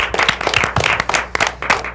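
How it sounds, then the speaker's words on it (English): An audience applauds for a performer named Tim at a live comedy-music show, a dense burst of hand clapping from a small crowd, close and fairly loud throughout. "let's give a round of applause for Tim"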